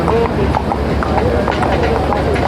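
Hooves clip-clop in a quick, even rhythm as a horse walks at the Jagraon horse fair in Punjab, partly buried under loud voices and crowd noise.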